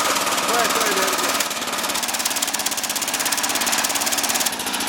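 A petrol engine said to run on water, giving a steady, rapid knocking chug close by, with fast even pulses that hold throughout.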